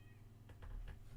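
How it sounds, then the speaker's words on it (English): A cat meows at a door, a quick run of three short, fairly faint meows, heard alone against a low indoor hum. "My cat's meowing at my door."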